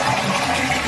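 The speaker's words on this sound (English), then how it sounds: "I'm just gonna lift this up. See, and that's what actually flushes the toilet." Water rushes steadily as a toilet flushes after its flapper is lifted by hand during a handle replacement, a close, continuous flow of sound with no speech.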